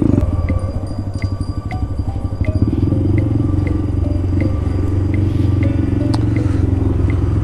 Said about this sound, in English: Let's have us a little exhaust music.